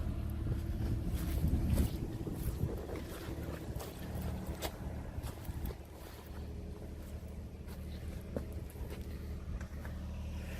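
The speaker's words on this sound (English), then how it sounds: "It's flowing really nice. It's like a little stream." Subsurface water running out of a French drain like a small stream, a faint, steady outdoor wash of flowing water with low rumbling noise, stronger in the opening seconds.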